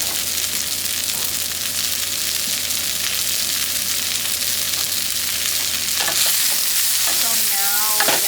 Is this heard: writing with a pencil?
no